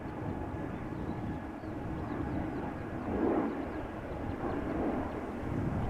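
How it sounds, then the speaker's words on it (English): An Embraer 195-E2 jet climbs out after takeoff, a broad steady rumble with a gentle swell in the middle, moderately distant and heard alone without talk. "Now this would be an E2 Embraer 195 that just took off from 36 Center."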